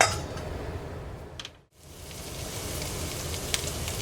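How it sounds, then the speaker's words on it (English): Chicken sauteing in melting butter in a pan on a stovetop burner gives a steady crackling sizzle, with a brief dip partway through before the hiss resumes at an even level. "as you can tell by the sizzle, it is sauteing pretty good"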